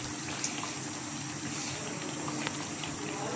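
Eggplant fritters frying in oil in a pan over medium heat give a steady, soft sizzle and crackle with faint pops, close by and continuous, with no voices.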